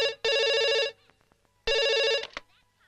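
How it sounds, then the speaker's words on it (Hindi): An indoor telephone rings in two loud, bright electronic bursts, each lasting under a second, separated by a short gap with faint background sounds. "अरे अप्पू, तेरे लिए फोन है।"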